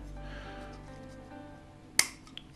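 A plastic support structure piece for a model kit snaps into place with one sharp click near the end, followed by a faint second tick, over quiet low background hum.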